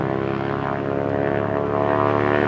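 A propeller plane's engine drones steadily at an airport as the aircraft readies for takeoff, a loud, even hum with no break throughout.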